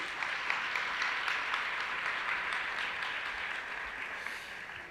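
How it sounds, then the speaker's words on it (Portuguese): A church congregation applauding during a service, a steady, moderately distant wash of clapping that holds for several seconds with no voices over it. "Você pode aplaudir a Jesus aí?"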